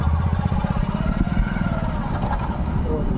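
A motorcycle rides through the Agumbe rainforest, its engine giving a close, loud, throbbing drone that runs continuously throughout with faint rattling over it.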